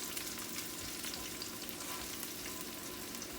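Onions and garlic sautéing in a hot pan, an even, dense frying sizzle up close with faint stirring, no voices, continuous for the whole stretch.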